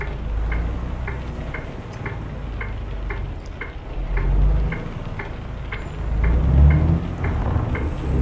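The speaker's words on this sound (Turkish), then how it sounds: "Fırtına başladı fırtına." Low rumbling storm noise in Euro Truck Simulator 2 swells and fades beneath a steady, evenly spaced ticking, like windshield wipers or an indicator, with no talking.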